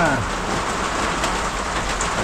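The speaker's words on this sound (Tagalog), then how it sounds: "Pag-ulan na." Steady, dense rain falls and patters on surfaces during a typhoon on a calamansi farm, loud and continuous throughout.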